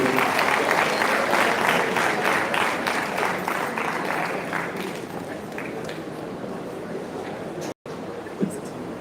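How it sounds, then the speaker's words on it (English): An audience applauds an award presentation honoring a recipient, a broad wash of steady clapping that gradually thins, with a brief dropout and a few scattered claps and murmurs afterward. "Please, a round of applause for him."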